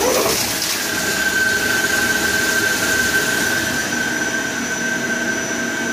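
CNC lathe boring a part after facing and chamfering, a steady machine hum with a sustained high cutting whine running evenly through, fairly loud and continuous, no voices.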